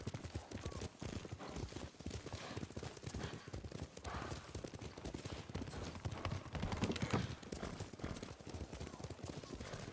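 Hooves pound in a fast, continuous gallop from several horses in the video game Ghost of Tsushima, loud and rhythmic, with faint voices underneath.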